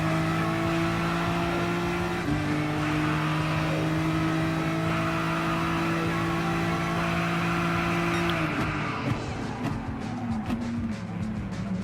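Race car engines in the Gran Turismo Sport Gr.3 Cup, including a Porsche chasing a Volkswagen Beetle, drone steadily and loudly throughout, with sustained engine tones that shift pitch partway through as the cars run the first turn.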